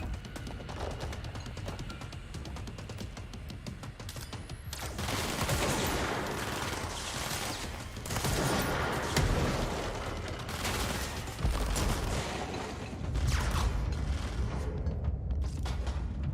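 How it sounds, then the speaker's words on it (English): Heavy launcher weapon fire in the shooter game Control, with repeated loud blasts and booming impacts across a dense, busy stretch of combat noise. "launcher does so much damage"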